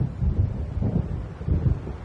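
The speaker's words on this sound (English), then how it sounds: "It seems there's a storm coming" Low, rolling thunder from a storm approaching across the water in Alan Wake Remastered rumbles in two or three swelling waves, distant and heavy, with no voices over it.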